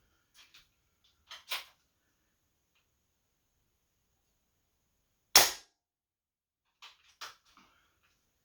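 A Beeman Raider air rifle fires a 33 grain pellet through a chronograph: one sharp, loud report stands out amid a few quieter clicks and taps of handling in an otherwise silent room.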